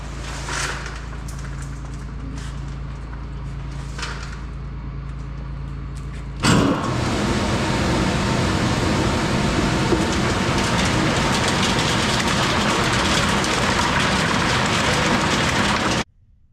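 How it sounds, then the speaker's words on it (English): A farm air cleaner blows shells out of nut meat in winter: a low machine hum, then a sudden loud rushing blast of air that holds steady for about ten seconds and cuts off abruptly. "This down here is predominantly good meat with a few shells in it. And so I can take this over here and I can blow those shells out."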